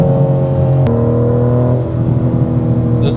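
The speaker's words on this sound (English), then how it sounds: "Listen to those burbles." A 2025 BMW M4 LCI Cabriolet's exhaust burbles as the throttle lifts at speed on the Autobahn, a loud, steady engine drone with the pitch dropping in steps and faint crackles near the end.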